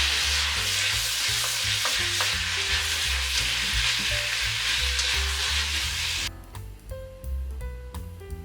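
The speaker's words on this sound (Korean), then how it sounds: "이제 면을 넣어주시고 아까 만든 양념장도 다 넣고 1분에서 2분간 잘 섞어줍니다" Noodles and sauce are tossed in a hot pan, making a loud, continuous sizzle with scraping stir strokes for about six seconds before the sound cuts off, leaving soft music underneath.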